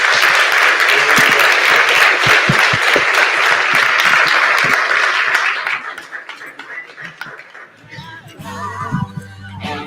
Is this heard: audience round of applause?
yes